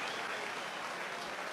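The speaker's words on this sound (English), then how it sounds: "Round of applause, Eric Hickson, coaching our running backs." Audience applauding a football running backs coach at a signing day event, a steady wash of many hands clapping, fairly quiet and continuous throughout the short burst.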